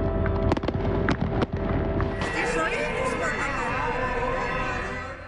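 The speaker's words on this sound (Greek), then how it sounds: "το λιμάνι του Πειραιά φωτιζόταν από δεκάδες πυροτεχνήματα, με τα πλοία να ασφυρίζουν την Ανάσταση του Κυρίου" Fireworks burst over Piraeus harbour on Easter Resurrection night 2021 while ships sound their horns: a few sharp bangs come early, then dense, sustained, loud noise with tonal horn blasts running through it.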